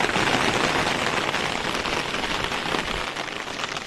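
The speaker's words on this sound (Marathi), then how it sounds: "पाऊस लागतोय" Steady rain pours down at Mandangad fort, a dense, even hiss of drops hitting surfaces all around, loud and continuous with no voices.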